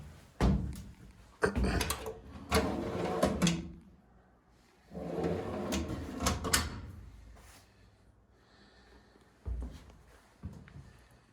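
Aluminum cabinet drawers aboard a boat under construction slide open and bang shut in several separate bursts, each with a sharp thunk followed by rattling, close by with quiet gaps between.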